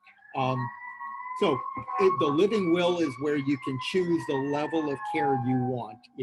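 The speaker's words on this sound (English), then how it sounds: "Sorry if you hear all these ambulances behind me." Ambulance sirens wailing outside with a steady high tone that drifts slowly in pitch, heard behind someone speaking continuously close to the microphone.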